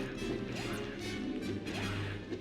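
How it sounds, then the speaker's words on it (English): Repeated smashing hits on glass in the Lego Star Wars video game, a steady run of crashing impacts over a dense, continuous game soundscape with no speech. "Apparently I cannot destroy that glass."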